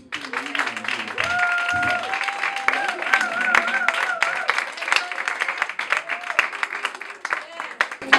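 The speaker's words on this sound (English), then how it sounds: "So one applause to him as well" Audience applause at an awards acknowledgment during a local news event, steady crowd clapping running throughout while a person speaks over it.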